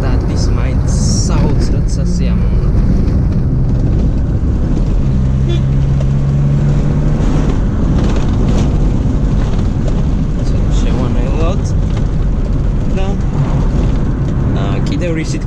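A 1985 BMW 320i E30 drives with a continuous engine and road roar heard from inside, loud and steady, with gear changes shifting the tone and someone talking throughout.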